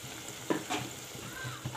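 Dried fish (shutki) set into hot oil in a home kitchen, giving a short burst of sizzling with a few stirring scrapes, near and fairly quiet, with no talk.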